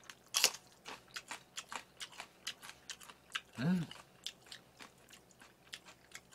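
Crunchy bites and chewing of raw onion, spicy and eaten alongside kimchi, give close, crisp crackling crunches in a steady rhythm with one louder bite near the start, set against a quiet room.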